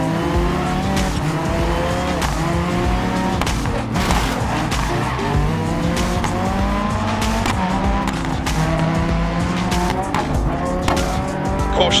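A Ford Fiesta RS rally car on a Dirt Rally video game stage, its engine revving and shifting through gears with loud tire skids on loose surface, constant and close.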